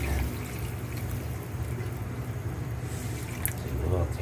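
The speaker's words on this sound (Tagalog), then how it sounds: "Tapos dagdagan natin ng tubig" Water is poured into a cooking pot of simmering, softened meat, a steady liquid pour and trickle close by, with kitchen background noise and a voice briefly speaking near the end.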